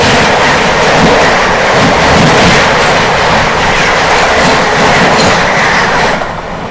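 The Karmabhoomi Express, running from Raxaul to LTT, rushes past loudly at night with a dense roar and rhythmic clickety-clack of wheels on track, easing slightly at the end.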